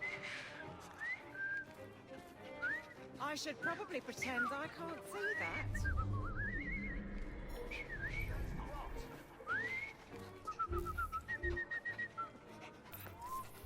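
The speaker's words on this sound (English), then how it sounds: "I've just learned to whistle." Whistling by a character in Assassin's Creed Syndicate, with rising and falling tonal notes scattered across the stretch, mixed with bird chirps and horse sounds in a Victorian London street scene while people talk.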